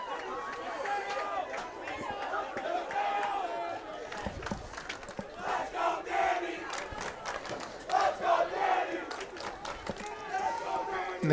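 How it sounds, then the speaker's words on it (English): A crowd at a boys' varsity high school soccer match, Woodbridge vs Colonia, breaks into a rhythmic "Let's Go Danny" chant, loud and steady, with shouting and chatter mixed through the whole stretch. "And the crowd awakens to a Let's Go Danny cheer."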